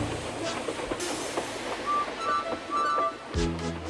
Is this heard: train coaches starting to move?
yes